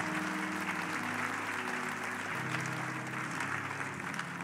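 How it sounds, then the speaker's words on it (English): A church congregation claps for a male chorus, the clapping soft and continuous under sustained organ or keyboard chords in a large room. "Let's give them a hand clap of praise."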